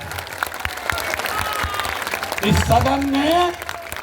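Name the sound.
audience clapping loudly at a speech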